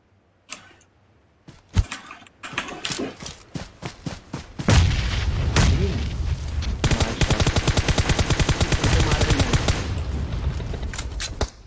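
Rapid automatic gunfire in a PUBG battle royale match: a few scattered shots early, then a loud, sustained burst of dense rapid-fire bursts with booming low end, heard alone without talk.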